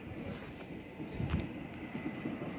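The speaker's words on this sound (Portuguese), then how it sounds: "Aí o trem passando." A train rolls past at the old railway village of Paranapiacaba, a steady low rumble of wheels and cars with faint clanks, fairly close and continuous, with no talk over it.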